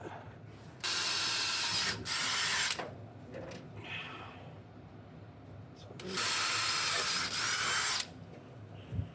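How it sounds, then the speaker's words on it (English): A power drill boring pilot holes in a 1971 GMC C10 shortbed truck, whining loudly in two long bursts of about two seconds each, with quieter shop noise between them. "we're gonna go ahead and drill out these two holes"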